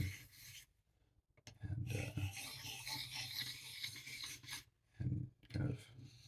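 A black Arkansas sharpening stone is dressed by rubbing a 6000 grit Japanese stone across it: close, gritty scraping strokes come in bursts separated by short pauses, with a brief word spoken.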